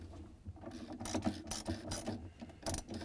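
A socket ratchet loosens the agitator bolt on a Whirlpool top-load washer, giving close, loud bursts of rapid clicking and mechanical rattling in uneven strokes with brief pauses between.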